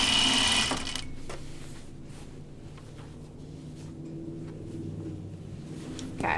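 A sewing machine stitching a pajama top, its motor whirring in a steady run close by, starting with a louder burst and then settling into an even hum that continues without talking.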